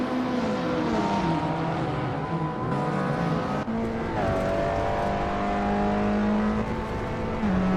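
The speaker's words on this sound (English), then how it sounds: "Bot Blaming Buddha is driving a 2018 BMW 125iM Sport Dirty" Car engines hum in a racing video game, where a 2018 BMW 125i M Sport is among the cars. Several engines drone together at the same time, their pitch climbing and dropping through gear changes, loud and close, with no talk over them.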